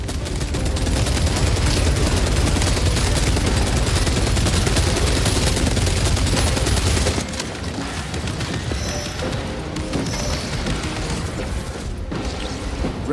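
Dense, continuous gunfire and explosive combat noise from Warhammer 40K: Space Marine 2, loud and sustained for about seven seconds, then thinning into scattered shots and mechanical clatter over a busy battle backdrop.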